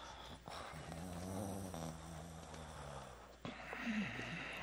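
A sleeping man breathes heavily and regularly in a quiet room, with slow, deep, slightly snoring inhalations and exhalations heard close and alone.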